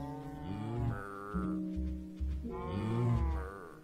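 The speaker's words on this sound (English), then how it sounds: "Hello, Moo Moo cows." Several drawn-out cow moos from a video game, close and loud, with rising and falling tones and a short pause between the calls.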